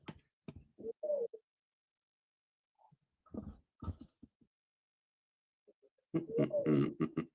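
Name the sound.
bird cooing, maybe an owl or dove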